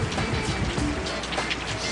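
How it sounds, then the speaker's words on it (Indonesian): Rain falls steadily as a dense, even hiss of drops on a surface, loud and continuous with no voices over it. "Kan hari hujan."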